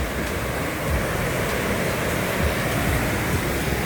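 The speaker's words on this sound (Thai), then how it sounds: "น้ำตกสวยงามอำเภอปลายจังหวัดแม่ฮ่องสอนนะ" Mo Paeng waterfall in Pai, Mae Hong Son, Thailand, swollen after heavy rain, pours in a dense, even roar that fills the scene without a break, loud and close, with no voices.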